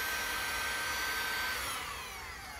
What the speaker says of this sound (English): so it's a vacuum that when you're drilling and this pushes in, the vacuum engages